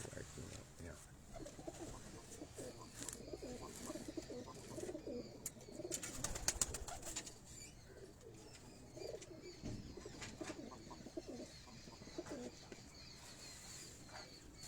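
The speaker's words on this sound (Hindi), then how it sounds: "ये डब वाले कबूतरों में से है।" A dub pigeon coos on a rooftop loft, its soft low calls repeating under someone talking nearby.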